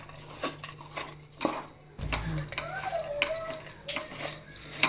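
Roasted dates being stirred and mixed into golden-brown dry fruits in a pan while making khajur pak, with scraping spoon strokes, soft clinks against the pan and a faint sizzle, close and fairly quiet.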